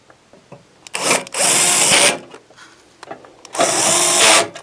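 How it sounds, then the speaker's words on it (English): Fan spinning inside a Santa Fe XT dehumidifier during a defrost thermostat repair, two loud, close whirring bursts of about a second each with a brief pause and small handling clicks between them. "Before we install the screws, we want to make sure to spin the fan."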